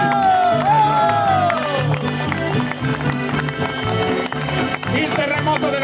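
Crowd applause and cheering fill a lively folk event with Sardinian tenores singers in Neoneli, a dense, steady roar of clapping with whoops and raised voices throughout.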